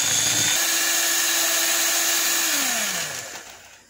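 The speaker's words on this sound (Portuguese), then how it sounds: "Agora eu vou usar o auxílio de uma batedeira." An electric mixer beats boxed-mix birthday cake batter with a loud, steady motor whine that holds, then sags in pitch and winds down near the end.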